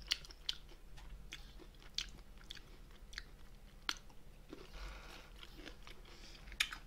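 Someone eats braised spicy monkfish (agujjim), with soft close-up chewing and occasional sharp crunchy bites, quiet and intimate with brief pauses between mouthfuls.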